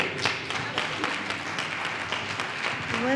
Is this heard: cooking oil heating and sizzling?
no